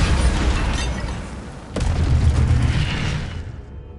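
Incendio fire spell cast in the Hogwarts Legacy video game: a sharp burst near the middle, then a rumbling, whooshing flame roar that swells and fades out. No voices.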